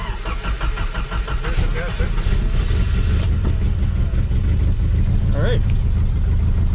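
A Datsun car engine idling and being throttled up in neutral, a steady mid-pitched running engine close to the microphone with rising revs, while people talk over it.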